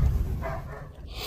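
A German shepherd barks from inside a wooden cage, giving a few faint, short barks with some whimpering, heard alone at a distance.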